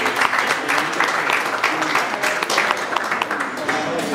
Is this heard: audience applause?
yes